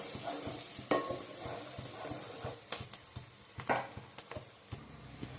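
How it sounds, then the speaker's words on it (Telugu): Onions with turmeric fry over a medium flame for a goat head curry, a steady soft sizzle broken by frequent scraping and clinking stir strokes, close and moderately loud with no talking. "ఇవైతే మంచిగా ఫ్రై అయ్యేంత వరకు మీడియం ఫ్లేమ్లో పెట్టుకొని వేయించుకుందాం"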